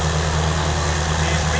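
A 1963 MTZ Dragon tractor fitted with HHO fuel-saving equipment runs at a tractor pulling contest in Hajdúböszörmény, its engine giving a loud, steady, close low drone with an even idling rumble throughout.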